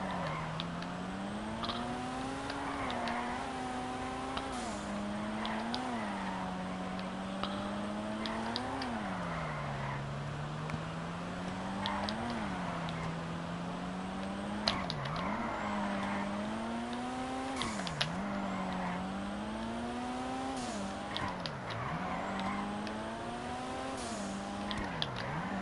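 A tuned car drifts in a driving game, its engine revving and dropping in repeated swells as the tires squeal through successive slides, steady and close with no voices.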